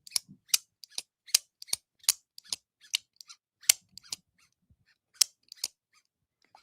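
A Vosteed folding knife makes crisp, sharp zipping clicks in a quick irregular series of repeated snaps, close and clear against near-silence.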